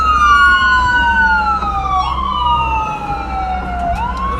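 An ambulance siren wailing loud and close, its pitch sweeping down and back up in long cycles over a low road rumble.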